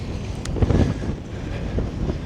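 Wind buffets the microphone on the open, flat summit of Great Dodd, a near, gusty low rumble rising and falling with no other sound.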